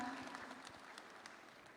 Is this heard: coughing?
no